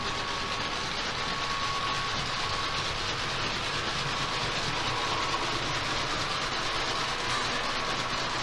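A train running at about 60 mph over jointed rail makes a steady, broad rumbling roar with continuous rolling wheel noise, heard fairly distant and unbroken throughout.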